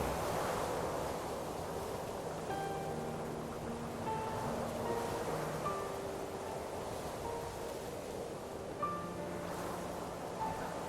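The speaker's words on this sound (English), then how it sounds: "The gusts swirl around me" Wind gusts in the video game Purpose 1951, a soft continuous rushing blow like surf, faint and steady with mild swells, under a quiet tonal musical backdrop and no talk.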